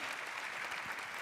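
Audience applause at a business forum, a brief burst of dense, steady clapping heard from a distance at low level.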